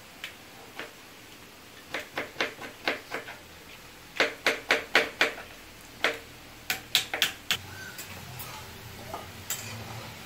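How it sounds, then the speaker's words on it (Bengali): Chicken chopped with a knife, sharp knocks of the blade hitting a board in quick bursts of several strokes separated by short pauses, up close and clear. "দেখো কি সুন্দর কাটছে"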